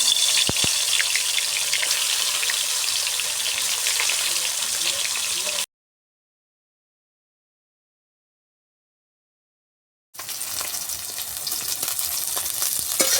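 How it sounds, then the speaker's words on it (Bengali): Fish coated in spices hiss and crackle as they go into hot oil in a village kitchen, a loud continuous sizzle broken by a long silent gap in the middle before the frying resumes. "এবার তেল গরম হয়ে গেছে, মাছগুলো দিয়ে দেবো।"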